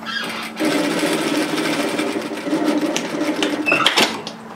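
A sewing machine runs steadily, stitching a seam on fabric for a reusable four-cup takeaway coffee holder bag, a continuous close whir lasting several seconds with slight speed changes near the end.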